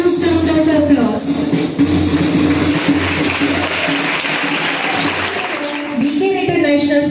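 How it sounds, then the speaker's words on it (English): A school audience at an investiture ceremony claps in a broad, continuous round of applause, with a voice and some music or crowd tone running underneath. "Let us welcome them with a huge round of applause."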